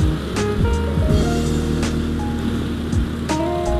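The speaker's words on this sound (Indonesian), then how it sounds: "walaupun dia cc-nya cuma 113, tapi ini motor lumayan kenceng bro" A 113cc motorcycle climbs a hill, its steady engine drone and low harmonic hum carried under a constant rush of wind noise, close and fairly loud throughout.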